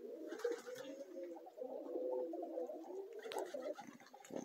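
Young Zamość red pigeons coo and murmur softly in a loft, a low continuous burble with a few fluttery accents, moderately close and steady throughout.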